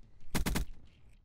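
Three rapid pistol shots from Call of Duty: Black Ops III ring out close and loud in a quick even burst, followed by quieter game ambience.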